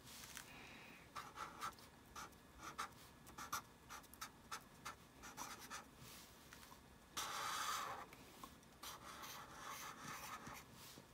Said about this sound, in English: I'm gonna start off with the silver. Just a nice, thick,